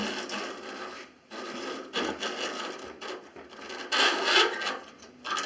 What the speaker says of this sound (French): Je vais retirer le furet.